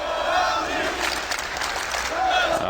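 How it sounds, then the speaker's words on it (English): A large arena crowd at a CS:GO Major final between Luminosity Gaming and Natus Vincere roars and shouts in a steady, loud wash that lasts throughout. "This crowd is definitely fantastic today."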